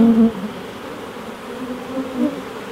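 Honey bees buzz steadily and close by as nucs are installed into a hive box, a continuous droning hum with slight swells.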